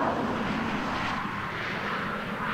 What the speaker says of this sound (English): it's right by the highway, so there might be some highway noise